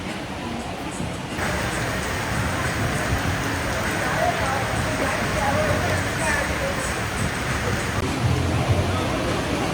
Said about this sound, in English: You can hear that rain hitting that rooftop right now.